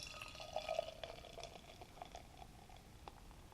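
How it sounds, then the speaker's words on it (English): Old Nation Brewing Boss Tweed New Orthodox IPA poured from a freshly opened can into a Teku glass, a quiet close gurgle and fizzing splash that fades into soft bubbling. "Crack it open and pour it in the Teco"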